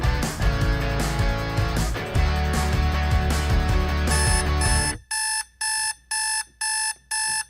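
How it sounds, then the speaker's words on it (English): An electronic alarm clock beeps loudly in four evenly spaced, rhythmic pulses right after a stretch of music on a morning radio broadcast. "the sound of an alarm like that going off early in the morning can be grating"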